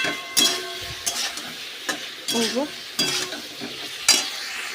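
Spoon stirring a spice masala with turmeric in a pan, producing intermittent scraping strokes over a steady sizzle, close and fairly loud, with no talking.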